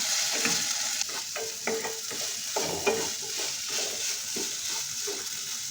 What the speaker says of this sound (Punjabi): ਹੁਣ ਆਪਾਂ ਇਹਦੇ ਵਿੱਚ ਸਾਬੂਦਾਨਾ ਪਾ ਦਿੰਦੇ ਇਹਨੂੰ ਮੀਡੀਅਮ ਫਲੇਮ ਤੇ ਤੁਸੀਂ 1-2 ਮਿੰਟ ਵਾਸਤੇ ਘਿਓ ਵਿੱਚ ਭੁੰਨ ਲੈਣਾ ਹੈ